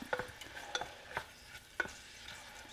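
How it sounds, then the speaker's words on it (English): Mushrooms sautéing in a pan, with faint sizzling and a few soft, scattered clicks of stirring, quiet and close with no voices. "We're just going to saute our mushrooms till they get"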